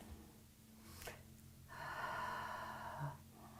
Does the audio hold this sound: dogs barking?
no